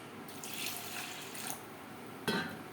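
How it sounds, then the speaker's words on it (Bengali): Moong dal being washed in water gives soft sloshing and trickling sounds, quiet and close, ending with a slightly louder splash. "ডাল বেশ পরিষ্কার করে ধুয়ে নেব।"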